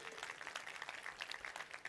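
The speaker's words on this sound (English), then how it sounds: "A big round of applause for her debut on stage." Faint, steady applause from an audience at a stage event for a motorcycle launch, a dense wash of many hands clapping without pause, distant and low in level.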